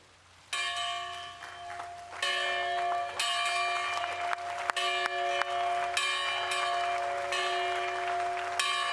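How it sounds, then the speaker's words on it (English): Large bell rung to mark a museum opening, loud ringing strikes repeating about once a second with long sustained tones, and applause rising underneath. "99-year-old Ruth Bonner, ringing a bell to signal the opening of the museum."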